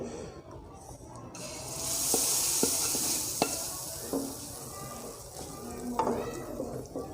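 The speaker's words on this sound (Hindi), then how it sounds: "देखिए तड़का जो इसके अंदर चला गया है।" A tadka of spiced oil with red chilli pours into a pot of Amritsari chole, giving a soft steady sizzle and hiss alongside light stirring and clinks of a utensil, heard alone without talk.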